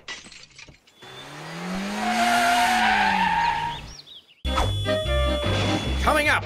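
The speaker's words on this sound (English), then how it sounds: "some see it as the perfect time to practice their handbrake turns" A car skids through a handbrake turn on a slippery road, its tires scraping in a long rising and falling squeal, followed by another car's engine and tire noise, with voices present.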